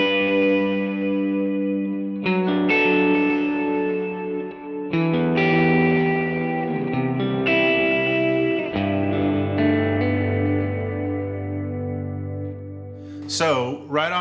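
An electric guitar played through a Halo-style delay preset with a simple plate reverb on a modeling unit, sustained distorted notes and chords swelling and echoing into lush repeating trails, with a pitch-swooping flourish near the end.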